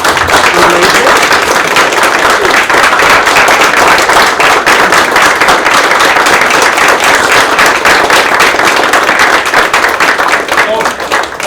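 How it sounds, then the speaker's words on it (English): An audience at a school board of education business meeting applauds a unified sports program, dense sustained clapping filling the room loudly and continuously with little letup. "let's just give them all a round of applause for that."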